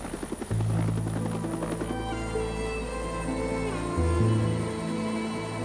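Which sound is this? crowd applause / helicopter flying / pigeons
helicopter flying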